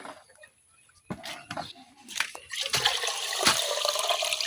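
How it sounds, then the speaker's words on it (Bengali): Water pours into a pot of washed rice and lentils, a splashing, gurgling flow that builds from quiet and grows steadier and louder, near and alone. "এখন পরিমাণ মতো পানি দিয়ে দেন।"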